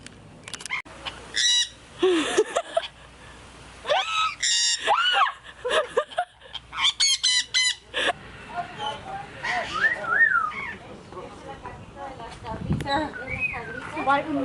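An escaped white pet bird squawks and screeches in a string of loud, harsh bursts close by, with whistle-like calls between them, mixed with people talking and reacting nearby.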